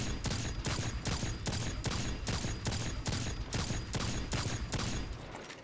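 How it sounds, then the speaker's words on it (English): Spare Rations hand cannon from a first-person shooter video game fired as fast as possible, a steady run of about a dozen sharp, loud shots at an even rapid rhythm with no talk. "when you aim down sights with these hand cannons and just completely full fire, like just mouse click 1 as fast as possible"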